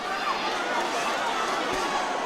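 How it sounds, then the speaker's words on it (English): A packed arena crowd roars steadily at the Golovkin vs Canelo middleweight boxing rematch, a dense, continuous wall of cheering and chatter with a commentator's voice faintly underneath. "These middleweights are giving the crowd something to cheer about."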